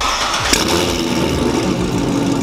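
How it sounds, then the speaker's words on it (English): A car with header exhaust starts with a sharp crank and settles into a loud, rumbling idle close by. "those headers sound so good"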